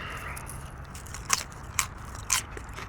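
Crunchy bites and chewing of SkinnyPop butterbeer-flavored kettle popcorn, three distinct close crisp crunches over a quiet background with soft mouth noises, no talking.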